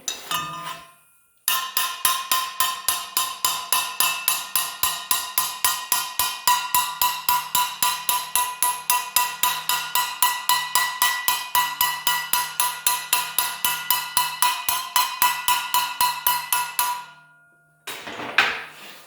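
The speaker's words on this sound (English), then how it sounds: "All I'm using is that hammer again" A hammer beats rapidly on the metal bottom edge of a door, a loud, ringing, evenly paced series of dozens of close strikes that stops briefly and then resumes.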